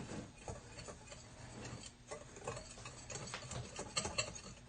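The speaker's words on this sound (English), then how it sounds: "Mix all your dry ingredients and give it a good stirring with a whisk." A Pampered Chef whisk stirs dry cornbread ingredients in a bowl, giving a steady close-up patter of rapid scratchy ticks that continues without pause.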